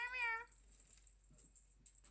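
One cat gives a single short meow nearby, followed by quiet room sound with faint rustles.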